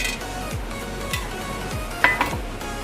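Whole cloves, cardamom, bay leaf and cinnamon stick sizzling in hot oil, a soft continuous crackle with faint stirring scrapes and a brief metallic clink.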